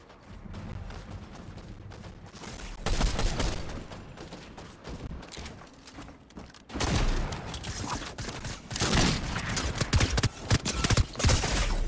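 Gunfire in a Fortnite match bursts out in loud volleys, a heavy cluster of shots around the three-second mark, then more intense rapid fire and repeated blasts through the final five seconds, with no talking.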